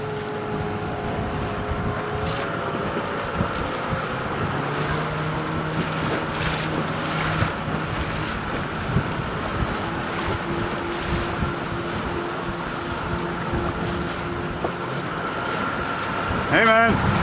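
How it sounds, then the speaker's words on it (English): A boat motors across open water with a steady engine drone and wind and wave wash throughout, with a brief sharper sound near the end. "So we're just going over now to pick up Melby on Luca's boat"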